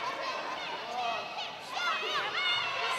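Noise from a wrestling event crowd, a fairly faint mix of chatter and shouting that swells and fades.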